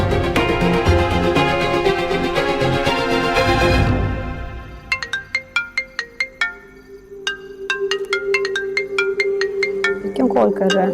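A phone ringtone plays a melodic electronic tune, loud and close, first as a dense chime pattern and then as repeated plucky notes, with voices faintly underneath.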